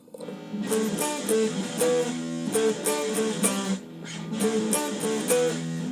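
Electric guitar plays the verse riff of a song, a steady galloping run of picked notes with repeating melodic phrases, loud and close, alone without talk.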